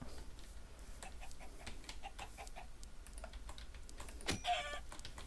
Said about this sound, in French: là, un petit poulet de famille